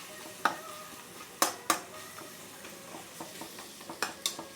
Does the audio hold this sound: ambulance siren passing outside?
no